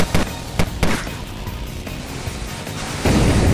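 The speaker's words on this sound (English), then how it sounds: "Uh-oh, there's explosions." Explosions go off in the Road Redemption motorcycle combat racing video game, with several sharp booming bursts in quick succession, then a lull and another heavy rumbling blast near the end.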